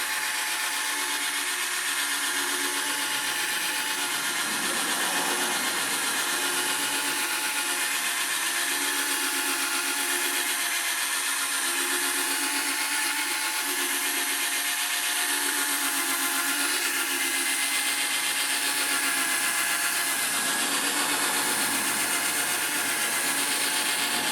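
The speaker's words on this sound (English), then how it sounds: "this drill attachment will do just fine" A steady, continuous whine of a power drill spinning a buffing pad on car headlights, running without pause throughout, with a bright high-pitched hum.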